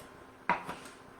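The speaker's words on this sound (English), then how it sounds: "I'm going to go ahead and get these broccoli stems kind of diced up" A knife dicing broccoli stems gives a single close chop onto a board followed by a softer second knock, brief and quiet against a faint background.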